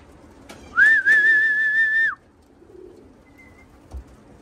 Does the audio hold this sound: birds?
yes